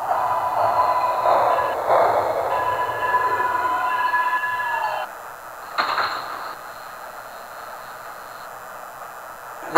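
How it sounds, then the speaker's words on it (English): A Queensbound 9 local subway train in the OpenBVE train simulator game runs along steadily with a loud, continuous rumble and whining motor tones, then drops in level midway, followed by a brief burst of noise. "This is a Queensbound 9 local train."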